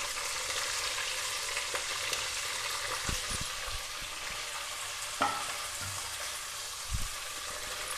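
Sliced onions and green chilies frying in oil in a pan on the stove, a steady soft sizzle with hiss throughout and a few low knocks and clinks of a stirring spoon.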